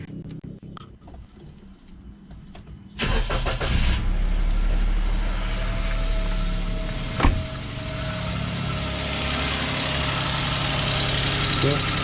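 A Perodua Axia is cranked and its engine catches after a few quiet seconds, then settles into a steady, close idle hum with a brief clunk partway through.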